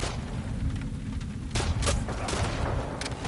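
Gunfire in The Last of Us Part 2 gameplay: a few sharp, loud shots burst out in quick succession over a rumbling background.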